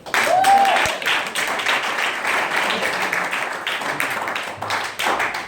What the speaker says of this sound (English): Everybody give a round of applause for Brian Pineapple.